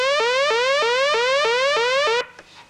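Synthesizer note whose pitch is swept by an LFO in a repeating sawtooth pattern, rising steadily then snapping back about twice per second, played alone and loud before cutting off near the end.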